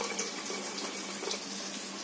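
Water pours steadily into a pot with a continuous splashing hiss, close and fairly soft, with no talking.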